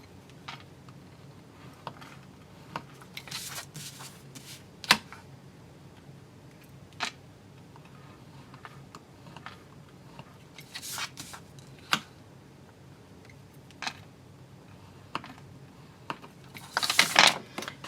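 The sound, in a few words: scoring paper for a box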